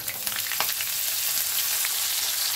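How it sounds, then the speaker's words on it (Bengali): Cauliflower pieces frying in a little oil in a wok, a steady close hiss of sizzling with a few brief scraping stirs, no voices. "এরপরে আমি কপিগুলোকে একটু ভাজবো"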